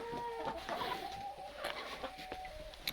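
A flock of 37 chickens clucks and murmurs in a coop, several birds overlapping in soft irregular bursts, with a faint whine in the background.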